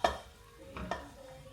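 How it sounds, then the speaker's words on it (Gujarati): Potatoes are added bit by bit to a pan and stirred in, heard as a sharp clunk followed by quiet scraping stirs and a soft sizzle, close and fairly faint. "થોડા નાખતા જાય ને થોડું મિક્સ કરતા જાય"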